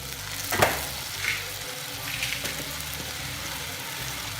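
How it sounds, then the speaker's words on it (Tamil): Onion sautéing with tamarind in a pan for a Nagercoil-style onion pachadi, giving a steady close sizzle and frying crackle with faint stirring, no voices. "அந்த உள்ளியும் இதையும் வதக்கணும்"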